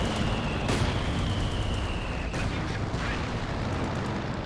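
Artillery fire in Company of Heroes 2, a steady roaring rumble of battle with a couple of sharp bursts standing out, no talking.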